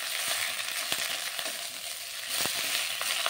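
Drumstick leaves sizzle and crackle as they are stir-fried in a pan, with a steady frying hiss broken by occasional scraping stirs, close and fairly loud.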